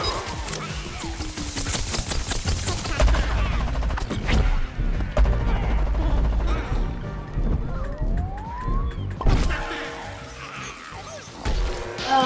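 Gunfire from an enemy in a zombie video game crackles through a dense, loud mix of game noise, with sirens wailing and engines rumbling over the twelve seconds.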